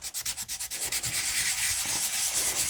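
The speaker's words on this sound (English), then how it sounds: "I have my nail file, so I am going to just scuff it up a little bit" A nail file scuffs a plastic window on a handmade journal, giving quick rhythmic rasping strokes that blur into a steady, close scraping.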